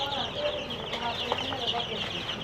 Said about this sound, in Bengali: 7 দিন বয়সী ফার্মি মুরগির বাচ্চা